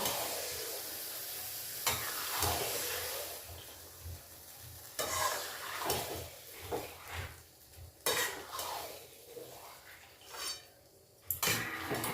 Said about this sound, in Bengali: সব কিছু দিয়ে এবার ভালো করে কষিয়ে নেব।